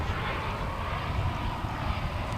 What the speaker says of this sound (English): this flight to Lubbock is now headed out.